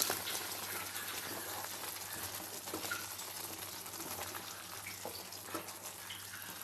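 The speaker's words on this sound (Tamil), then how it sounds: "இப்போ இதோட வேக வச்ச மட்டனை போடுவோம்." Cooked mutton goes into frying masala in a pan for a village-style mutton curry, raising a dense, continuous sizzle and crackle at moderate volume.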